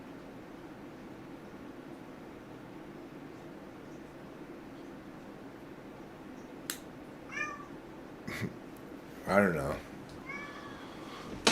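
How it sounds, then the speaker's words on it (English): A cat meows several times in short, fairly faint calls, with a steady hiss of background noise behind them and a brief bit of talk in between. "Oh, he's an assertive cat."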